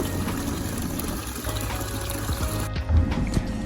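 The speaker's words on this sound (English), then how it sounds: "you just pull up on these handles and all the dirty water comes out into the overflow tube" Dirty water from an OASE Bio Smart 5000 koi pond filter pours into an overflow tube in a steady, close gushing rush that keeps on throughout and shifts slightly toward the end.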